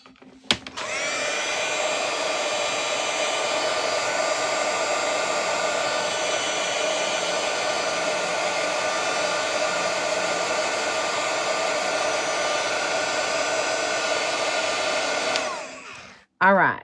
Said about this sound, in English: let's go ahead and dry that. Oh, where's my heat gun?